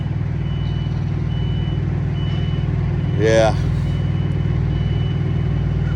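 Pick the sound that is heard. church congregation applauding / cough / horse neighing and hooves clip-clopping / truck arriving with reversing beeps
truck arriving with reversing beeps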